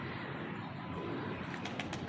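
Round-tipped pigeons coo and shuffle close by in a dense, continuous murmur, with a few brief wing flutters near the end and no voices.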